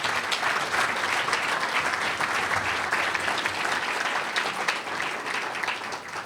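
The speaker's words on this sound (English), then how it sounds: "Let's give everybody a round of applause." Applause fills a room at an awards banquet for a Clearwater Beach restaurant week, a thick, continuous roar of many clapping hands that stays loud and even, easing off slightly only at the very end.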